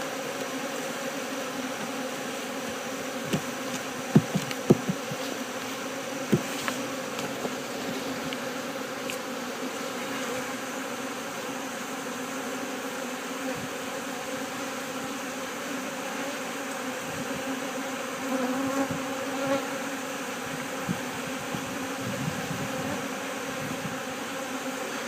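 Honeybees hum around open hives while frames are moved between colonies, a steady, even drone throughout with faint knocks and taps scattered over it.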